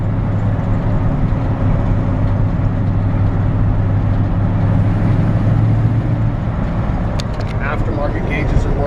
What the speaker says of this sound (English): cabin noise is actually quite low.